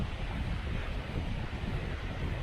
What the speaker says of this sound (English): And the river is so high.